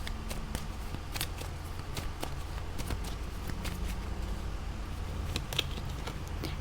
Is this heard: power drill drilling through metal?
no